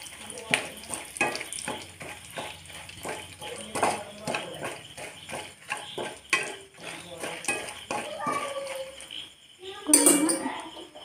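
Crushed dried red chillies fry in oil in a pan while a spoon stirs them, making soft, intermittent scraping clinks over a faint sizzle, fairly quiet and close.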